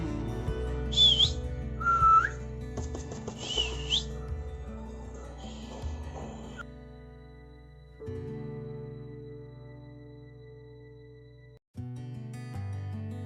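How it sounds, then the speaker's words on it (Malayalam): Two pairs of lovebirds in a newly built low-cost cage give a few bright, whistled chirps and squeaks early on, then settle into quiet with only a low background hum. "രണ്ട് ജോഡി ലവ് ബേർഡ്സിനെ ഇതിലിട്ടിട്ടുണ്ട്"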